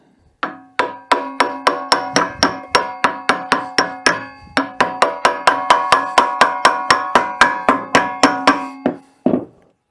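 Rapid, evenly spaced metallic hammer taps drive a part onto the shaft of a new scuba compressor motor, loud and close, with a short pause midway and a final heavier blow.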